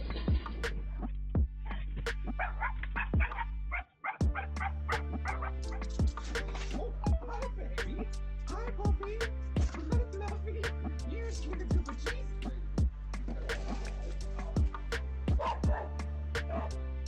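Dogs barking at a delivery worker, sharp and close, firing off repeated barks in an uneven rhythm across the whole span, with one brief break in the middle.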